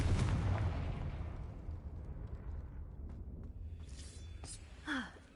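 Fiery blast of the Confringo explosion spell in the video game Hogwarts Legacy, a loud burst at the start that rumbles and decays over several seconds, followed by fainter crackling and a short whooshing flare near the end.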